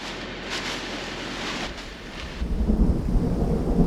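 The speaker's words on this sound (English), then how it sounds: "We've got another thunderstorm" A thunderstorm at sea rolls over a sailboat with deep, rumbling thunder that swells and fades, then heavy rain starts pounding the deck and surfaces in a dense, close patter, with no voices.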